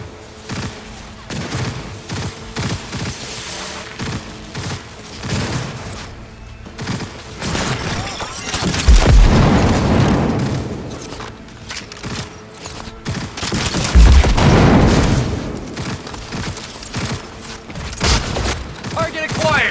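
Close-range gunfire in Cyberpunk 2077 erupts in dense bursts with heavy booming impacts, swelling loud twice amid constant combat noise, while voices speak throughout.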